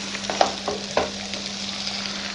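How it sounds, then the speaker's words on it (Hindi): Vegetable spaghetti being stirred in a hot pan with tomato ketchup, a steady close sizzle broken by a few sharp scraping stirs, with a constant low electrical hum underneath and no talking. "यहाँ पे अच्छे से मिक्सिंग कर देते हैं ताकि नमक अच्छे से मिक्स हो जाए"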